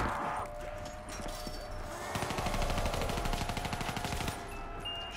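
Video game combat with a shotgun blasting at Hellpigs: a dense run of rapid, repeated firing bursts over constant background noise, with some clattering and mechanical sounds before and after.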